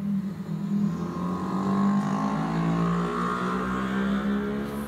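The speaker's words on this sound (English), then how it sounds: "Flatulent motorbike." A loud motorbike passes outside, its engine rising and falling in pitch as it goes by, heard from indoors as a sustained throaty drone.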